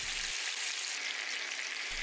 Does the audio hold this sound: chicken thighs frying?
yes